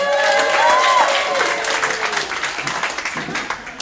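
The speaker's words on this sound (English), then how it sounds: "ladies and gentlemen, big round of applause" Audience at a reception in Honolulu bursts into applause, a dense, fairly close wash of clapping that peaks early and gradually thins into scattered claps, with a brief cheer near the start.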